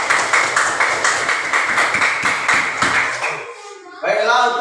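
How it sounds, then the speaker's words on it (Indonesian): A class of students claps on cue in a school lesson, a dense patter of many hands for about four seconds, then fading as a voice speaks over the tail. "Tepuk tangan dulu ya."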